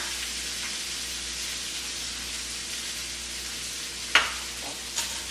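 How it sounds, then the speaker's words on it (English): Vegetables and fresh mushrooms sizzle steadily in a hot wok during a stir-fry, a close, continuous hiss broken near the end by two sharp clanks of a utensil against the pan. "Stir that around a little bit. Put our fresh mushrooms in there."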